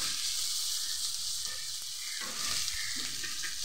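Sliced onions for a bread egg masala cutlet sizzle steadily in a hot pan as a spoon stirs them, giving a continuous hiss with soft scraping, heard close and alone.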